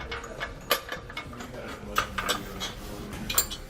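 Metal hardware clinks and rattles as bolts and nuts go onto a bracket of a Yakima EasyRider Double Decker bike trailer, with scattered close taps and jingles and no talking.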